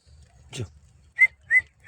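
Young puppies near a trap where another pup died give a few high, thin whimpering cries, close and repeated, with a brief rustle before them and no talk.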